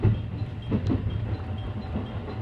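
A JR West Gakkentoshi Line train runs along the track with a steady low rumble and faint rhythmic clicks from the rails, continuous and moderately loud.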